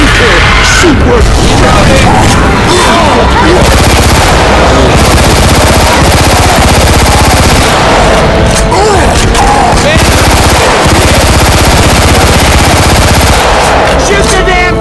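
Left 4 Dead 2 gunfire: loud, relentless machine-gun bursts rattle nonstop at close range, dense enough to bury the few voices underneath.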